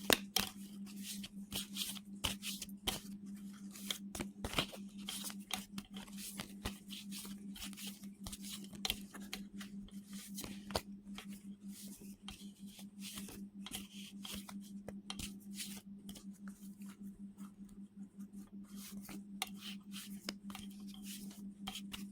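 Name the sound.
shuffling a deck of oracle cards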